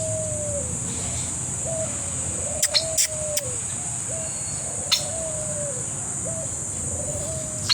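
Birds in the aviary of the new Manila Zoo call with short rising-falling chirps repeated at intervals, moderately near, over a steady insect-like hiss and a few sharp clicks and knocks.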